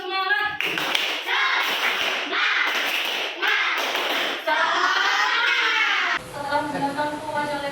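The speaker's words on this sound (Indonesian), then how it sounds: "kita tepuk lagi, tambah semangat" A primary school class claps together in a patterned rhythmic cheer, with bursts of sharp hand claps alternating with children's chanting voices, ending in a short stretch of talking.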